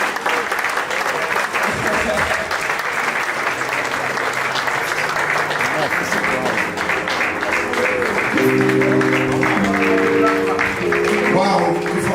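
Sustained applause from a large audience, steady clapping throughout with some tonal music or voices rising underneath toward the end.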